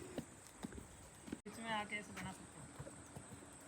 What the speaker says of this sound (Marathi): एक अजून एक दुसरा घोडा आणलेला आहे बाबा.